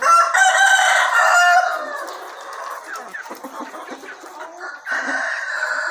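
Free-range village chickens of breeding age on a farm, with a loud nearby rooster crowing at the start followed by softer clucking and scratchy farmyard sounds, then another crow rising at the end.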